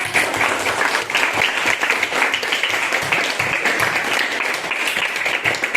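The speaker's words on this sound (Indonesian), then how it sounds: "Oke, tepuk tangan." A classroom of students applauds together, dense continuous clapping close by that holds steady for several seconds without talk.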